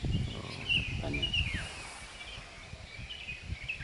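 Mountain birds called manuk goto sing in forest on the slopes of Merapi volcano, giving high chirps and whistled calls over leaf rustle and soft ambient noise, with faint voices in the background.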